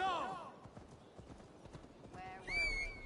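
Horse hooves clip-clop in a steady walking rhythm as a rider moves through a forest in Gloucestershire in Assassin's Creed Valhalla, with a horse whinnying at the start and again near the end, under a voice.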